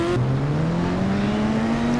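A Mahindra Thar drives along with a steady engine note that climbs gradually in pitch as it accelerates, a continuous close motor drone with road noise and no talking.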